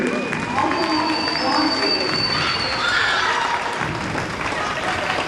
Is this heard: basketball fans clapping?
yes